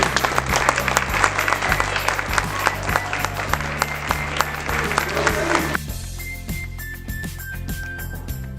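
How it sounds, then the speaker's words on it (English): An audience claps steadily for student scholars at a 2021 school Medal of Honor awards ceremony, dense applause that thins and quiets near the end as a few brief tones sound. "Round of applause for these amazing scholars."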